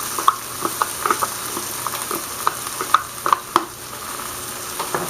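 Salsa sizzles steadily in a hot pan while a utensil stirs it, scraping and tapping against the pan in irregular strokes over a constant frying hiss.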